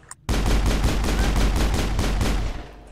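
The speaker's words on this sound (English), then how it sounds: "Turn this thing into a machine gun." A rapid machine gun burst in the video game Mass Effect, loud and close, firing a steady stream of about a dozen evenly spaced shots after a brief silence.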